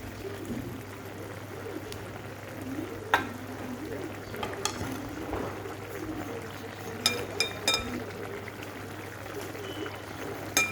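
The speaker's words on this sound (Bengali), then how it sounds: "এবার এর মধ্যে আমি ভেজে রাখা সুজিটা দিয়ে দিচ্ছি" Roasted semolina for upma tips into a pan and is stirred, with soft continuous scraping, a low frying hiss and occasional light clicks of the spoon against the pan.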